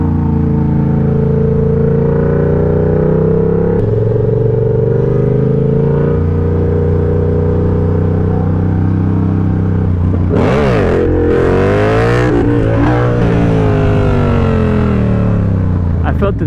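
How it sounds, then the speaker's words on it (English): Motorcycle engine held at steady revs during wheelie practice, a loud close drone that shifts pitch, then a sharp rev surge with wind noise near the middle before settling again, with talking mixed in. "I need bring it up to a spot where I let go of the gas"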